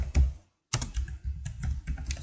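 Computer keyboard keys tapped in quick, close bursts while a formula is typed into Power BI, with a brief pause partway through.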